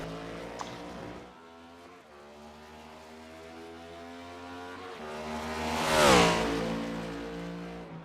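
A racing machine, car number 49, sets off on its first qualifying lap of the day, engine note holding a steady drone and then swelling loudly as it sweeps close by before easing off, with no voices.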